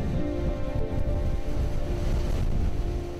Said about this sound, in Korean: 바람과 파도도 점점 거세집니다.